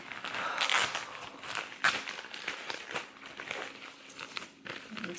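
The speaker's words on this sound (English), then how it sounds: "It's kind of like a cellophane. Alright, and she wrapped it in tissue paper." Cellophane and tissue paper wrapping being unwrapped from a Louis Vuitton luggage tag and handle strap, with close, continuous crinkling and rustling in irregular bursts, loud and alone.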